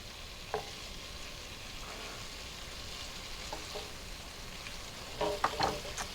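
Coconut shrimp sizzle steadily in a pan, with a few sharp scraping clicks as they are stirred and turned over, heavier clatter near the end; no one talks.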